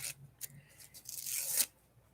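Paper pieces are cut out by hand for a journal, giving faint, close snips and a longer crisp tearing, rustling stretch, heard alone.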